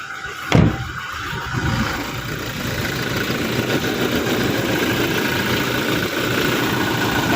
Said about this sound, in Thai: อันนี้เสียงคอมแอร์ปกตินะครับ